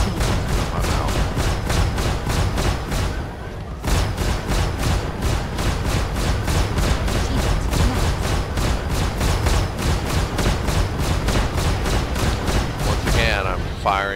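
Ship weapons in the Star Citizen space game fire in a relentless rapid rhythm of loud, evenly spaced blasts, pausing briefly early on before resuming for the rest of the stretch.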